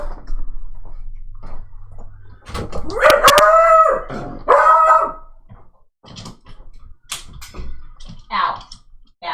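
A house dog gives a few loud, wavering howl-like barks close by, followed by scattered clicks and softer household noises with faint voices in the background.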